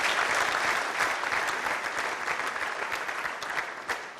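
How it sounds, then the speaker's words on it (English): An audience at The Agenda 2019 event claps steadily for about four seconds, a dense, even applause that eases slightly toward the end. "Please give me a round of applause again."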